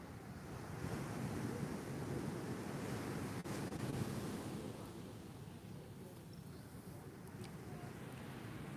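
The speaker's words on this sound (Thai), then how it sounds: "ชมบรรยากาศฟังเสียงคลื่นไปด้วยกันนะคะ" Ocean surf rolling onto a beach in Phuket, heard from the shoreline as a steady low roar of waves mixed with wind buffeting the microphone.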